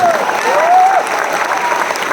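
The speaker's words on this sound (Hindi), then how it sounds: "मैं चाहता हूँ इस इंडस्ट्री के लिए जोरदार तालियां होनी चाहिए" Dense applause from a crowd fills the clip, steady and loud, with a faint tone briefly audible over the clapping.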